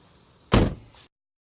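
A rear door on an Infiniti car shuts with one solid, heavy thunk, close and loud, followed by a brief faint rattle before silence.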